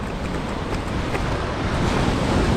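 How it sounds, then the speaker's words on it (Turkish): Sea waves crashing against rocks on the shore, a loud continuous roar of surf with wind buffeting the microphone, heard close and unbroken. "Bakın şu burun taşlara çarpan dalga daha şiddetli buralara çarpıyor."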